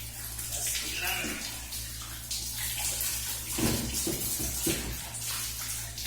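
Water is poured and mixed from a drum supply to cool a hot bath, a close, steady splashing and sloshing with a few stronger pours midway, while a voice speaks briefly in the background.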